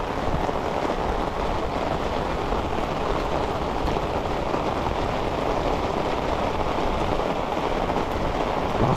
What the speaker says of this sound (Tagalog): Lakas ng ulan, mga kabis.